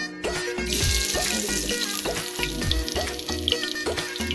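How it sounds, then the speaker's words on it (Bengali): Spiced marigold-flower fritters frying in a little hot oil make a loud, continuous crackling sizzle that rises sharply after a short quiet start and stays close and dense, with faint tonal sounds underneath. "আমি এক এক করে চারটি বড়া দিয়ে দিয়েছি এবার আস্তে আস্তে আমি ভাজবো"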